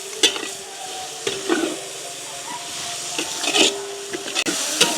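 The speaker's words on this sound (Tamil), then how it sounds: "வெங்காயம் பச்சை மிளகாய் எங்களுக்கு வதங்கிட்டுது" Onion and green chilli sauté in a pan with mustard seeds, a steady sizzle broken by sharp stirring scrapes and clacks of a spoon at irregular intervals, nearby with no speech.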